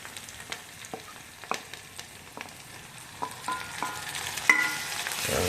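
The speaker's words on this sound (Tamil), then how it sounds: "தக்காளி வதங்குற அளவுக்கு நல்லா வணக்கணும்" Tomato and onions sauté in a pan for kara kuzhambu, with a soft continuous sizzle and repeated spoon clicks and scrapes as the mixture is stirred, close and fairly quiet, with no talking.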